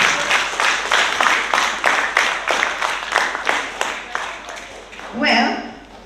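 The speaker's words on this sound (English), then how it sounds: "Give them a round of applause." Applause from the audience at a primary school graduation ceremony, a rhythmic burst of clapping that fades out, followed by a short swell of sound at the end.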